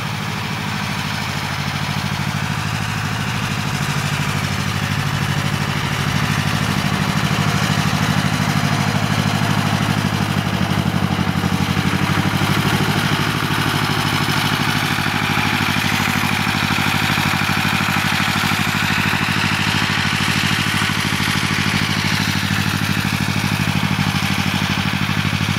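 A tractor engine runs steadily outdoors in a rural setting, a continuous mid-pitched rumbling drone with light mechanical clatter throughout, fairly close and unbroken for the whole stretch, with no talking.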